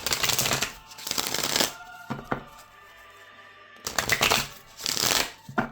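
A deck of cards being shuffled in several rapid riffling bursts, separated by brief pauses with a few light taps in between.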